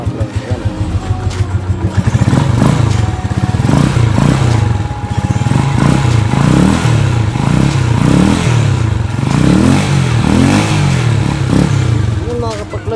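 Rusi TC 125 motorcycle engine revving repeatedly, loud and close, with a steady idle chatter between rising and falling throttle blips over about a dozen seconds.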